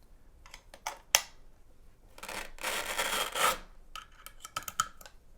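Hardware being tightened by hand while a guitar pedalboard is assembled, heard as close, irregular rasping and scraping bursts with short gaps between them, and one longer grinding stretch in the middle.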